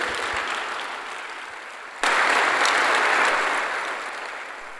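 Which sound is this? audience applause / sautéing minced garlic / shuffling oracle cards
audience applause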